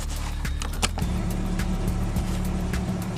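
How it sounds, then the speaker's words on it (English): A car engine idles steadily in snowy winter conditions, a low continuous rumble close by, with a few sharp clicks and knocks over it and no talking. "I'm going to go ahead and start the car so the defroster can do its job"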